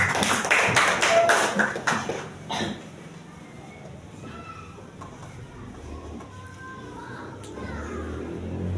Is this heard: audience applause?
yes